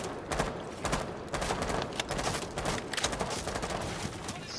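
Rapid bursts of assault rifle fire from the operator Jackal in Rainbow Six Siege, loud dense automatic volleys broken by short pauses across the whole stretch.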